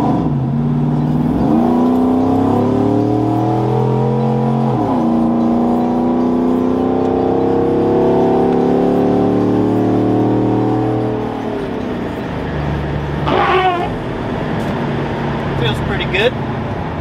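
Truck with a 5.3L Vortec engine and fabricated intake with 102mm throttle body pulling away on a 55 mph road, loud rising engine drone through several upshifts, then easing off to a quieter cruise with faint clicks.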